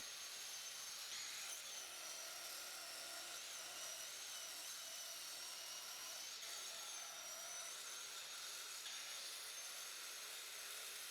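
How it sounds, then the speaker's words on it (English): Someone sands an end grain checker cutting board with a power sander, giving a continuous faint whirring drone throughout with slight pitch wobbles. "Now it's back to sanding to clean up some"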